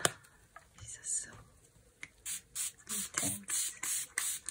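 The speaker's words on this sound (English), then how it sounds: "And I'm going to spray some inks here." Spray inks are misted onto coffee-dyed printed paper in a series of short hissing bursts, close and fairly soft, with a few quiet voice sounds and clicks early on.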